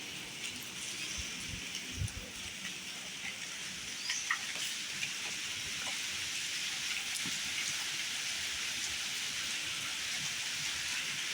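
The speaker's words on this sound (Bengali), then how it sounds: "কত বৃষ্টি বৃষ্টি" Steady rainfall patters on surfaces nearby, a soft continuous wash with occasional louder drips, no one speaking.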